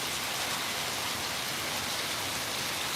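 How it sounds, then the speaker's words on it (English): Steady, loud downpour of heavy rain and hail drumming on a surface, a dense continuous hiss with no talking. "I think it just started hailing."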